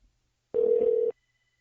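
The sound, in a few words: phone call dialing and ringing through an iRig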